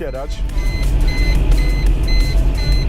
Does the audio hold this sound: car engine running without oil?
yes